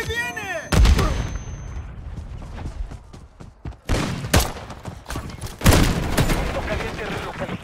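Gunfire from Call of Duty Modern Warfare 2 in a Hardpoint-style match: loud bursts of shots and explosive booms in several clusters, mixed with in-game voice callouts and chatter.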